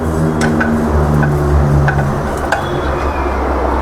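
Dry fruits and seeds roasting in a pan, soft crackling sizzle with occasional light scraping clicks from stirring against a steady low background hum.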